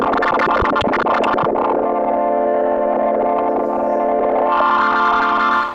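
A Moog Memorymoog synthesizer plays with its LFO set to audio-range sample-and-hold modulation, giving a loud, sustained, gritty and buzzing tone with a churning, distorted texture that shifts and brightens near the end, heard alone.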